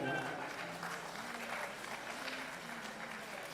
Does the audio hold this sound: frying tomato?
no